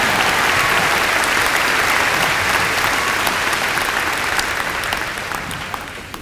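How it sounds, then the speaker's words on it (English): Audience at a Centenary College of Louisiana commencement ceremony breaks into sustained applause, a dense steady roar of clapping that holds strong for several seconds before gradually thinning toward the end. "You can clap now, though."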